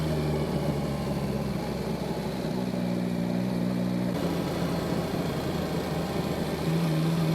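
A Yamaha Tracer 9 GT motorcycle rides slowly along a road at night, its engine holding a steady continuous drone with a shift in tone partway through, with no talk over it.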